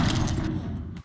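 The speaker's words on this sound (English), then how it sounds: "So it shoots its missiles at you, which is this shoot missile sound." An enemy in a video game firing its missiles: a loud, dense, booming burst with deep rumbling body that holds for about a second, then cuts off abruptly.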